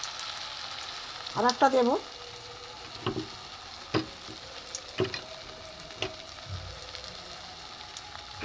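Bitter gourd slices dipped in gram flour batter frying in a wok, a soft bubbling sizzle punctuated by occasional clicks and taps of a utensil, close and fairly quiet, with a short spoken phrase near the start.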